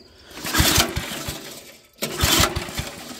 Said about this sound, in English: Give it some throttle. Maybe some more throttle and...